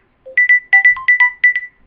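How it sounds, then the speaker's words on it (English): A mobile phone ringtone plays loudly and close, a rapid melodic sequence of bright electronic beeps in quick bursts, with no speech over it. "my phone ringing"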